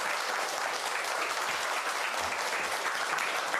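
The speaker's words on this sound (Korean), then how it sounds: "박수 부탁드립니다." An audience at a public lecture on coexistence and local self-government gives a steady, even round of applause that runs alone throughout, with hardly any voice over it.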